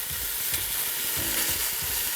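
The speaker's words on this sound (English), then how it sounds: "We're gonna cook it up in that bacon fat" About a pound of ground beef fries in bacon fat, giving a loud, continuous sizzle close by, with soft rhythmic scrapes and pops as the meat is stirred.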